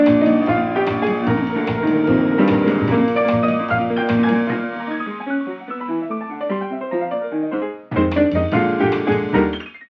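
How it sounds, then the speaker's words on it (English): Sampled 1903 grand piano from a Kontakt instrument playing a rich chordal passage, full and close, with sustained notes thinning out midway, a short pause, then a fresh phrase that fades away. "1903 grand piano with 6 microphone positions."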